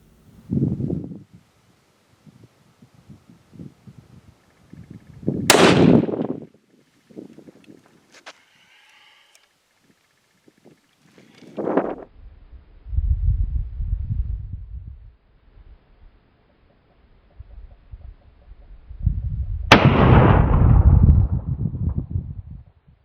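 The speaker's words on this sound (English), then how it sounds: "We're shooting at a distance of 200 yards. It's either a 22-250 or a 204 Ruger." Three sharp, loud rifle reports, from a 22-250 or 204 Ruger fired at a 200-yard target, ring out several seconds apart, each followed by a low rumbling tail amid quiet outdoor background noise.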